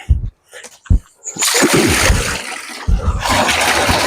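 Clear spring water from a never-drying pond in Wayanad, Kerala, gushes loudly from an opened outlet, a steady broadband splashing rush that starts after a few brief knocks and continues to the end.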